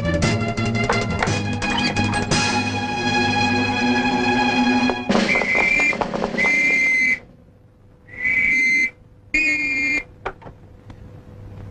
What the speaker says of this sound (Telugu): police whistles వినపడుతున్నాయి